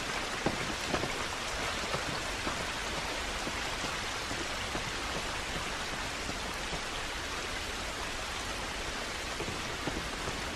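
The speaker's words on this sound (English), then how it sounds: "This rain ain't gonna do us any good." Steady rain falls throughout an outdoor scene in the video game The Last of Us, a dense, even hiss of drops on surfaces with no letup.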